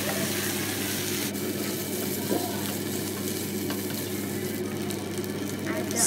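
Dry red chilies and curry leaves sizzle in hot oil in a pan for lemon rice, a steady crackling hiss throughout with faint clinks and a brief voice partway through.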